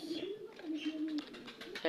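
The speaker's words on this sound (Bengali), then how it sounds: "এই কবে দুই পিস দেশি কবুতর বাচ্চা আছে" Young desi pigeon chicks coo softly in a low, wavering hum, close by. Faint chirps mix in, and a sharper call rises right at the end.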